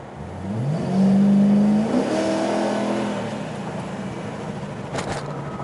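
Modified Chevy Caprice police car with open headers, its engine revving up into a loud, rising growl that peaks and holds, then eases back to a steady rumble, heard from inside the car without talk.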